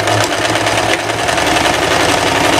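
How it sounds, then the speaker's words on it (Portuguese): An overlock serger runs steadily, stitching a straight seam on a shirt sleeve, a loud continuous mechanical whir and rattle lasting throughout with no pauses. "você vai passar uma costura reta aqui na manga e ao mesmo tempo passar na overlock"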